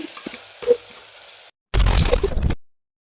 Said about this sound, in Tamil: இஞ்சி பூண்டு பச்சை மிளகா பெரிய வெங்காயம் சேர்த்து அரைச்சி விழுது நம்ம சேர்த்துக்கலாம் சேர்த்து நல்லா வதக்கிடுவோம்